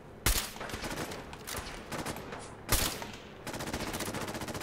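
Guns firing in Fallout 4 during combat: two sharp, heavy shots stand out among a rapid stream of smaller popping fire, fairly quiet overall and with no talking.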